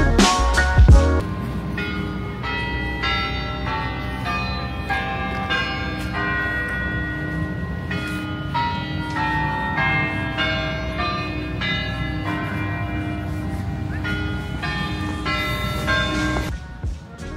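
A church bell chimes at Dartmouth College, tolling a steady, ringing melody that fills the clip. It sounds loud and close, sustained throughout, with no talking over it.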